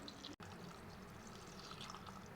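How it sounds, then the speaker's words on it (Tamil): Steady close pouring of water into a pot of washed drumstick (moringa) leaves for soup, a continuous splashing stream with one brief pause near the start. "இப்போ தண்ணி ஊற்றி வேக வச்சுக்கலாம்"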